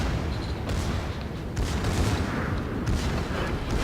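Secondary guns of the Alsace battleship firing in World of Warships: a dense, continuous barrage of booming gunfire with overlapping blasts and rumbling, loud and steady throughout.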